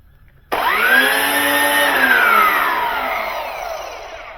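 A WILD BADGER 40V cordless garden multi-tool, powered by two 20-volt batteries, starts with a sudden jump to a loud whine and holds it close, the motor pitch sliding up and then easing slowly as it keeps running.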